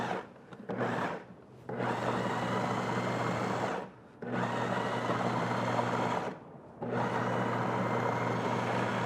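A food processor pulses a mix of coffee, onion and bacon in three long motor bursts of several seconds each, a loud steady whir with harmonic hum, separated by brief silent gaps.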